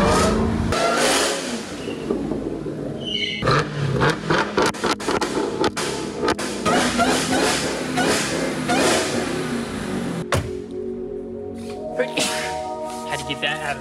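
A motorcycle pulls up to the very back of a garage building and revs its engine in loud, repeated bursts close by, with people talking over the engine noise and a sharp clank partway through.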